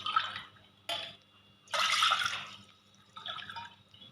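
Water poured from a cup into a cooking pot while making raw mango chutney, several separate close splashing pours of varying length with brief pauses between them.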